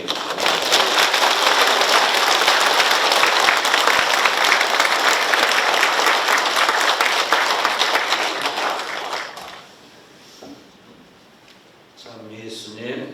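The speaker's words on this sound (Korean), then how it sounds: "큰 박수로 환영해 주시기" A church congregation applauds at Mass to welcome an elderly visiting priest, a dense, loud, sustained clapping that fills the room for about nine seconds before fading, followed by a quieter pause and then a voice speaking.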